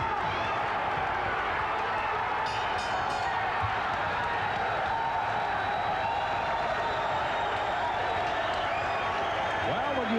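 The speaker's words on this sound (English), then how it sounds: "the crowd just starting to get pumped up and into the fight in Atlantic City" A large boxing crowd in an Atlantic City arena roars and cheers steadily through the closing moments of a round at an IBF super lightweight title fight, a dense, continuous wash of noise with scattered whistles and shouts.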